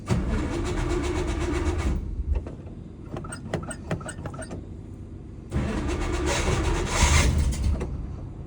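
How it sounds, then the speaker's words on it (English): An off-road vehicle engine with a Quadrajet or Edelbrock carburetor cranks, fires and runs loudly, drops to a rhythmic stuttering crank, then catches and roars again, close with no talk. "You usually have to give it a couple pumps and it'll crank once, and then I pump it again and it'll usually start on the second try."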